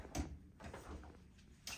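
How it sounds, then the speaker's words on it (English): A small sliding door to a hotel bathroom toilet in Orlando is moved open or shut, giving a couple of soft rolling thuds near the start and again at the end over quiet room tone. "Nice little sliding door for privacy."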